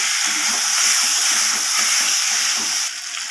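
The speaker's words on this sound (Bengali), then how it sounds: "ভালোভাবে সব কিছু একসাথে কষিয়ে নেব। বেশ কিছুক্ষণ সময় ধরে কষিয়ে নেব।" Potatoes and taro sizzle steadily as they are sautéed together in a pan for a lentil dish, a continuous close frying hiss with faint stirring, no voices.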